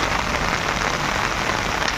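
Steady rain pours outdoors onto a home garden with orange trees, a dense, even hiss of drops striking surfaces that continues without a break.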